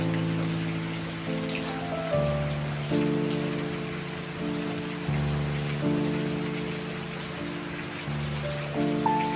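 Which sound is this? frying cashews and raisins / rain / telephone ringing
rain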